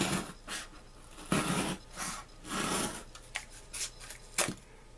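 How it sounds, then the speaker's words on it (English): A serrated Swiss Army knife blade saws through a test piece of cardboard, giving a series of close, scratchy rasping strokes of uneven length with brief pauses between them. "it doesn't hurt having a larger blade to cut through this cardboard. And it cuts through very, very easily"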